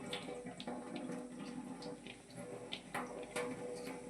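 Tap water runs steadily while radish leaves are rinsed under it, giving a continuous close splashing with small irregular spatters.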